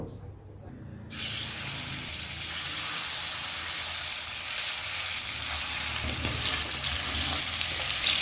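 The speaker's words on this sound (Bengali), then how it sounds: "গ্যাসটাকে এবার মিডিয়াম টু হাই ফ্লেমে রেখে মাছগুলো ভেজে নেব" Marinated rithe fish frying in a little oil in a kadai over a medium-high gas flame: a loud, steady hiss of sizzling begins abruptly after about a second and carries on unbroken, with no talking.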